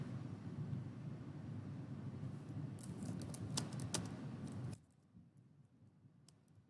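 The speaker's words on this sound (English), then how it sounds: "I'm going to type that in." Typing on a computer keyboard, a run of light clicks over a steady low background hum; keystrokes cluster in the middle and the hum drops away near the end.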